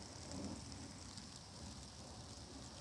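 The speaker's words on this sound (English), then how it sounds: "Feeling the rain." Rain falls outdoors under a tree near an old burial plot at an overlook. It is a soft, steady hiss of drops on leaves and surfaces, faint and even throughout, with no one speaking.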